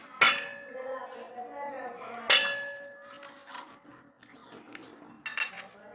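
Spring potato dough being mixed in a bowl gives two sharp, ringing clinks a couple of seconds apart, followed by softer scraping and light tapping close up.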